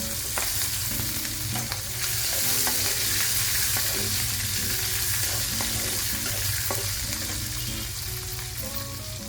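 Onions frying in hot oil with cumin and mustard seeds for mango pulihora, a dense steady sizzle with stirring scrapes and small crackles throughout.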